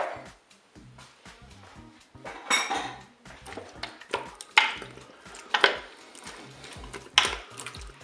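A spoon stirs gnocchi and crushed tomatoes inside a Cookeo multicooker pot, giving irregular scraping and clinking strokes against the metal bowl, close and moderately loud, with no one speaking.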